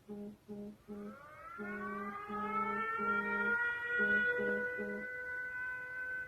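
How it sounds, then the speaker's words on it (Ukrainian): Air raid siren alert wailing in long rising and sustained tones after a few short pulsed bursts, loud and close, sounding alone with no voices. "і знову повітряна тривога"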